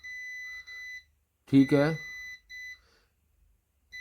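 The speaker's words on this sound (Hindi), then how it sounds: "चेक करें, चेक करें, तीनों पे इसके बजर बो रही है।" A multimeter's continuity buzzer beeps on the voltage regulator pins of a DC inverter air conditioner's circuit board. It gives several short, steady, close tones in a stop-start pattern, with someone speaking briefly between beeps.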